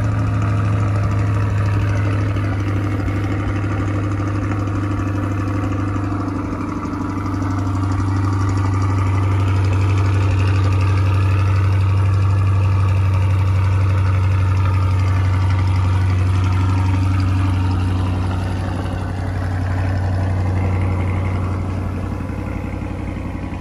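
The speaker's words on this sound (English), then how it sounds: "we'll go ahead and just show you guys what the factory exhaust sounds like one more time" Factory exhaust of a 2020 Chevrolet C8 Corvette idling, a steady deep low burble that holds loud and close for the whole stretch with a slight dip in the middle, no voices over it.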